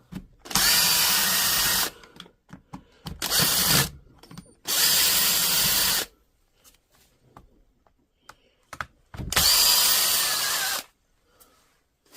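A power driver fitted with a T20 Torx bit backs screws out of the housing of a DeWalt power tool being repaired, running in four separate loud whirring bursts with quiet gaps and small handling clicks between them.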